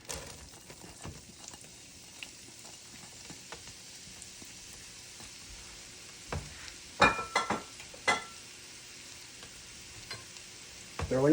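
Onions sizzle in melted butter in a soup pot, a low steady crackle broken by sharp scraping stirs and clicks that grow louder toward the end, close by with no talking.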